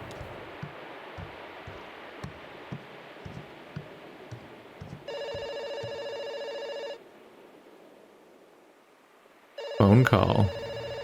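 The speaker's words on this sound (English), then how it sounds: "Phone call." A telephone rings in the Kentucky Route Zero video game: a short run of soft ticking steps, then a sustained electronic ring that stops and later returns louder with a brief burst.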